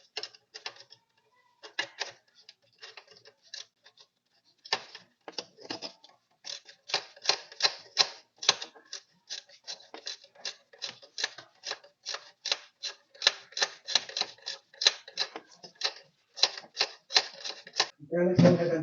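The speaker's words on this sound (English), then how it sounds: "Then use a 13mm socket and torque it down." A hand ratchet with a 13mm socket tightens the battery cable nut on a Chrysler alternator, rapid bursts of close, crisp clicking in repeated strokes separated by short pauses.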